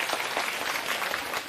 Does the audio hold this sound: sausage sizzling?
no